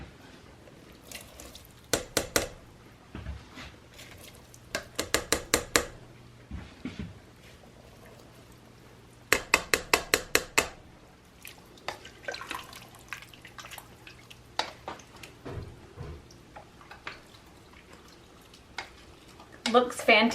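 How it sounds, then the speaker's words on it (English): Canned black, great northern and pinto beans being drained and rinsed at a sink, with intermittent bursts of running tap water and scattered drips and clatter between them. "I have a pint of black beans, white northern beans, and pinto beans that I'm going to drain and rinse out and put those in our soup."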